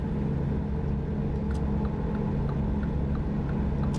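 Truck engine in American Truck Simulator, a low steady rumbling drone with faint rhythmic ticks, moderately quiet and continuous, with no talking.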